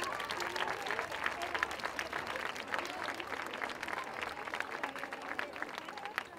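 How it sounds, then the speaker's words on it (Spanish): Crowd applause at an outdoor 25N celebration event against gender violence at San Roque station, continuous dense clapping from a sizeable group, fairly distant and even, with faint murmurs of voices underneath. "Así que fuerte aplauso a Molino de Fuego."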